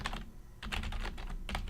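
Fingers type on a computer keyboard up close in quick clusters of keystrokes, with a short pause before a second flurry, alone with no talking.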